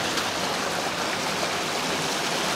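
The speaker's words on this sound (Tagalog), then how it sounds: "Magandang daloy ng tubig dito." A natural spring on the Bulbok river in Alfonso, Cavite, with water flowing and gushing in a steady, dense rush that stays close and constant, with no voices.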